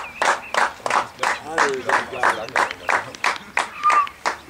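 Rhythmic group clapping among people at an under-19 youth football match, about a dozen loud, evenly spaced bursts, close by, with a voice speaking over them.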